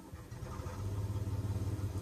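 A Valtra 604 turbo tractor engine in Farming Simulator 2017 idles with a low, rumbling drone that thickens and settles into a regular throbbing pulse, close and fairly loud, with no voices.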